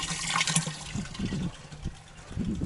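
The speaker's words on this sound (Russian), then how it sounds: "Набираю воду." Water from a village borehole gushes and splashes steadily into a container, with a gurgling, churning rush and no talking.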